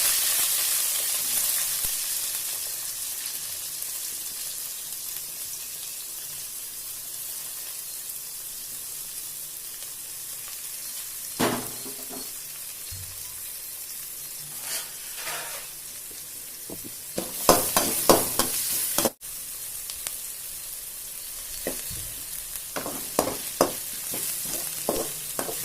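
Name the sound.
onions sautéing in oil with fennel seeds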